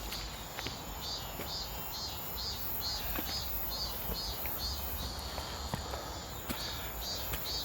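Cicadas shrill in a steady, high-pitched pulsing chorus on a summer day, carrying on without pause over faint outdoor background noise.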